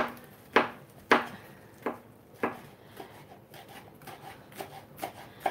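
Knife chopping fresh cilantro on a cutting board, several sharp distinct chops at uneven intervals followed by softer, quicker taps, close and fairly quiet, with no talking.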